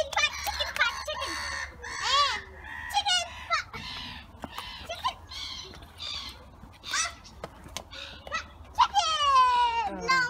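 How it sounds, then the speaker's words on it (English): Chickens on an animal farm near Belfast cluck and squawk in a busy, irregular series of calls, some rising into sharper crowing-like cries, close and fairly loud. "This chicken is really fat."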